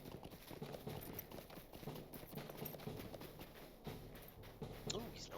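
Horse hooves clip-clop at a gallop in Lord of the Rings Online, a steady rhythmic pounding carried under game music and effects while someone talks over it.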